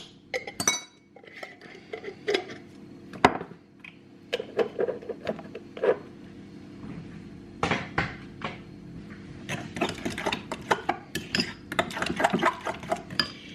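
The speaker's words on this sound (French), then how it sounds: "Je mélange le tout. On mélange bien, on mélange bien." Tuna tart filling stirred in a bowl with a utensil, giving repeated clinks and scraping taps against the bowl at an uneven rhythm, close and moderately loud, with busier clattering toward the end.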